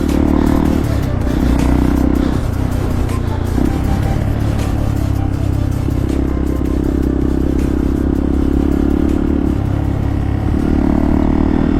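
A Hero Xpulse 200 motorcycle being ridden on a mountain road near an army camp in cold wind, a steady loud engine drone with rattles and clatter throughout, wind buffeting heavily and no clear speech.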